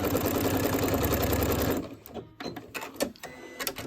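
A sewing machine stitches a seam on a quilt block in a fast, steady mechanical whir for almost two seconds, then stops, followed by soft clicks and fabric handling.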